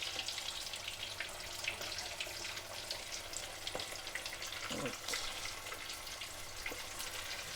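Prawn fritter batter dropped into hot oil in a Sri Lankan kitchen, a faint, even frying sizzle that continues throughout, with a few soft clinks and splashes.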